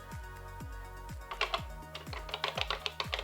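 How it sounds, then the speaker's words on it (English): Keys clatter on the keyboard of a restored Matra Alice 90 home computer, a quick run of sharp, close, fairly loud clicks that speed into a busy burst of typing near the end. "it's actually quite a nice feeling keyboard, if a little noisy"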